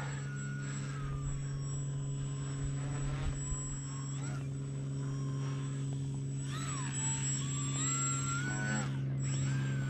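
Bayer Model 32-inch Vertigo RC plane in flight, a steady buzzing electric motor drone with small pitch shifts as it maneuvers, heard at moderate distance with someone talking over it.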